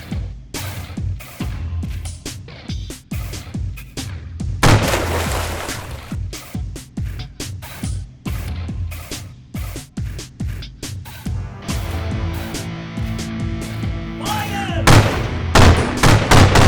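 Cannons fire aboard warships during a naval battle between HMS Speedy and the Spanish El Gamo, producing repeated loud, booming blasts at irregular intervals, some clustered close together, over a low rumbling background with tonal sound in the later part.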